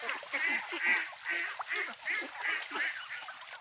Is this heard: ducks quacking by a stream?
yes